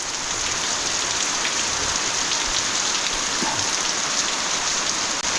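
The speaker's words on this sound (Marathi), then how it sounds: "जोरदार एकदम पाऊस आला आहे." Heavy unseasonal April downpour in a Konkan village roars as a loud, steady wash of rain on surfaces, continuous and dense throughout with no voices.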